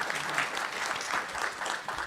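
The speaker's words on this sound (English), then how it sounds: "clap if you want to. Go for it." An audience at a TwitchCon panel of veteran streamers bursts into brief applause, a dense patter of many hands clapping at once, fairly close and steady.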